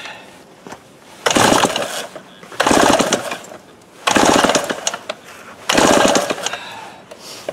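An old Remington Super 754 chainsaw engine with a suspect carburetor being started, giving four loud, rough bursts of sputtering engine noise, each lasting about a second, separated by quieter gaps.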